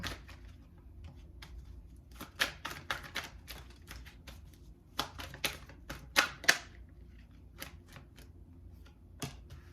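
A tarot deck is taken out and handled, giving a run of crisp card snaps, flicks and shuffling riffles in uneven bursts, close and fairly quiet over a soft steady background.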